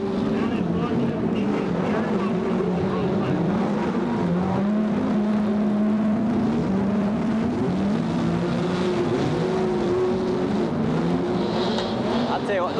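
Grand National Sport Trucks race over jumps at a Las Vegas stadium event in 1994, several engines droning and revving together in a continuous loud roar while an announcer talks over them.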